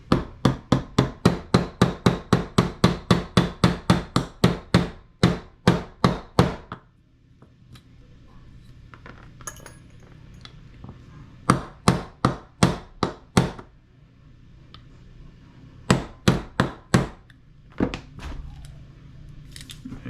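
Nylon hammer tapping a pin into a Modify-Tech MWS airsoft gas magazine, a rapid run of sharp close knocks, then a pause with small handling noises, followed by shorter bursts of taps.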